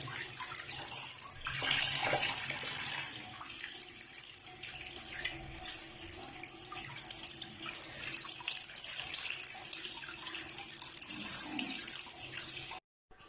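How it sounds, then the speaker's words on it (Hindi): Fish is washed under running water, with a tap flowing steadily throughout and splashes from the fish being rubbed clean, close by and with no talk, until the water stops at the end. "इस तरह मछली को साफ कर लेना है अच्छी तरह, माल माल के धो लेना है इसको अच्छी तरह से।"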